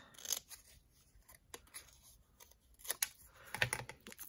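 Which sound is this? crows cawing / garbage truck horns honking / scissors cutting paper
scissors cutting paper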